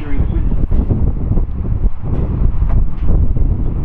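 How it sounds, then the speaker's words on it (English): Strong wind buffets the microphone at an outdoor railway centre among parked steam and diesel locomotives, a steady loud roar with gusting rumble throughout; no speech. "It is really quite windy."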